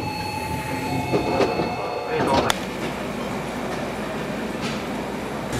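Steady rumble of a train interior on a two-hour ride in Japan, with a brief louder clatter and squeal midway before the ride settles back into an even drone.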